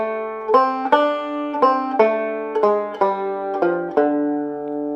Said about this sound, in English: So first of all, the D blues scale sounds like this.